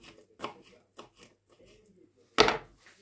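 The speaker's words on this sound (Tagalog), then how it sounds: "Hiwain natin ng ganito ka liliit" Vegetables being chopped small on a board, a few scattered close knife taps and one louder, longer cut, with quiet gaps between the strokes.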